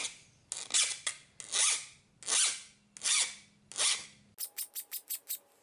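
A metal file strokes across a bowfishing arrow point in a series of rasping passes, several long even scrapes followed by a run of quicker short strokes, close and clear.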